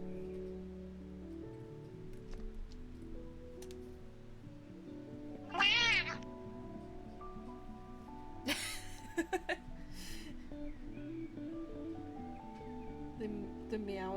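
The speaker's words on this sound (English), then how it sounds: "The meow is amazing." A pet cat meows in short bursts over soft background music and quiet ambient sound, with a few faint rustles nearby.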